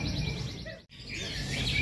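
Canaries sing in quick, bright chirping trills at a canary community contest, over a background murmur, with a brief pause midway before the song resumes.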